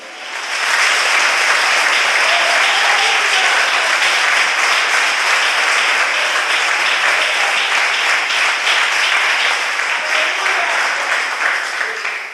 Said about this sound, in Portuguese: Aplauda Jesus, aleluia